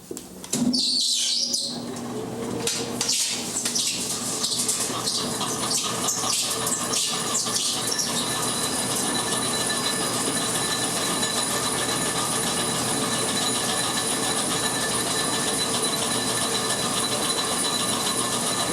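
An old textile mill machine runs a single pass, with a loud, steady mechanical drone and rhythmic ratcheting clatter that build at the start and then hold constant with no talking.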